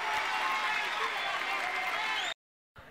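A live crowd at a rap battle applauds Nico after his verse, a dense steady wash of clapping and cheering that holds loud for over two seconds, then cuts off abruptly before a faint resumption.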